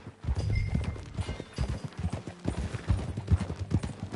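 Horse hooves clip-clop in a steady walking rhythm in Red Dead Redemption 2, close and fairly loud, with a faint background bed.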